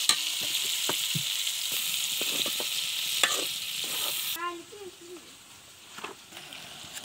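Onions fry on a clay stove with a close, hissing sizzle and repeated scraping stir strokes; partway through, a voice starts talking and the frying drops to a quieter hiss beneath it.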